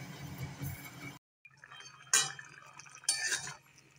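A lid set over a pot of simmering vegetable curry after a little water is added, giving a sharp metallic clink and a second clatter amid faint liquid bubbling in a quiet kitchen.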